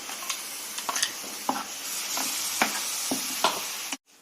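Tomato fries with ginger-garlic masala paste in a pan for chole masala curry, a close, continuous sizzle broken by sharp clicks of stirring before the sound cuts off abruptly near the end.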